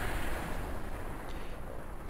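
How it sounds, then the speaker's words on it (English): A slow-motion explosion in Team Fortress 2 Mann vs. Machine rumbles as a loud, dense, noisy roar that fills the whole moment and fades only slightly, with no talk over it. "And it ends here with a funny slow motion explosion."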